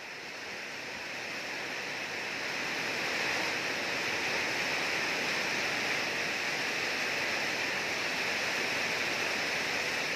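Steady rain pouring down over a rural farm plot in Thailand: a dense, continuous hiss that swells during the first few seconds and then holds evenly, with no voices.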